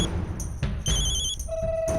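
A phone rings in repeated short electronic bursts, tonal chirps cutting in and out over a muffled background rumble.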